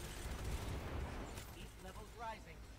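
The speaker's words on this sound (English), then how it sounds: "Just giving it a few extra bullets there for good measure." Rapid gunfire in Destiny 2 rattles in a dense volley of shots, fairly faint and low, followed by quieter trailing sounds while a voice talks over it.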